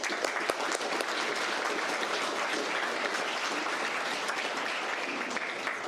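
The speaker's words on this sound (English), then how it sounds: "let's give you all a round of applause" Applause from the audience at a Florida Tech Army ROTC spring commissioning ceremony, a broad, continuous clapping from a large room, fairly soft and distant, steady for about six seconds.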